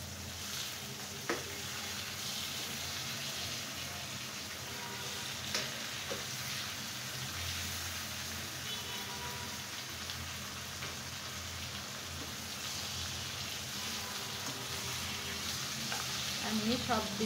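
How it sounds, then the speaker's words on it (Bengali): Egg and vegetables, including cauliflower, sizzle steadily in a pan for an Elish pulao, with a constant frying hiss and occasional soft scrapes of stirring close by. "আমি সব দিকে খুব সুন্দর করে উল্টিয়ে পাল্টে এটা ফ্রাই করে নিচ্ছি।"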